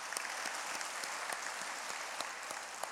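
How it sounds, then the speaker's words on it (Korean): Church congregation at a Sunday worship service giving applause of thanks, an even, moderately quiet patter of many hands with a few sharper claps standing out. "우리 하늘 부모님께 감사의 박수를 올려드리겠습니다"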